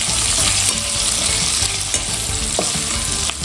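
Chicken chilli fries in a pan while being stirred, giving a steady, close sizzle with soft scraping strokes throughout and no talking.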